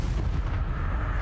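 Incendio fire spell cast in Hogwarts Legacy, a loud, dense whooshing burst with a heavy low rumble that holds steady for about a second, with no talking.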